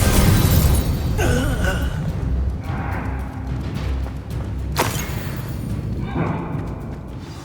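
A Confringo fire-blast spell explodes in the Hogwarts Legacy video game, a loud booming burst followed by crackling debris and further heavy thuds and impacts over a dense, rumbling combat soundscape.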